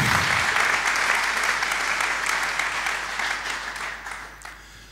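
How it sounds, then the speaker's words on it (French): An audience in a plenary session hall gives a tribute round of applause, dense and loud clapping at the start that gradually fades over a few seconds. "Un petit applaudissement pour ce grand monsieur qui nous a quittés."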